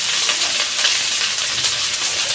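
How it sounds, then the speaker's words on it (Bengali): Potatoes with turmeric frying in a pan for a puti fish curry, giving a dense, even sizzle that stays close and constant for a couple of seconds with no voices. "এরপরে আমি দিয়ে দেবো হচ্ছে আলু, এগুলোকে ভালো করে ভেজে নেবো।"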